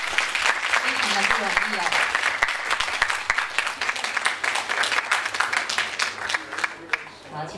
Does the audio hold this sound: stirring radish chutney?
no